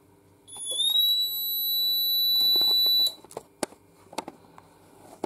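A smoke detector sounds a shrill, steady high-pitched fire alarm tone for about two and a half seconds during an alarm system test. It then cuts off, leaving scattered faint clicks and handling noises.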